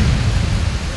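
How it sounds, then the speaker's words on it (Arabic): Rain falling in a city street in Tripoli: a steady, dense wash of loud broadband hiss with a low rumble beneath, constant throughout with no voices. "شتا بيخف وبيقوى"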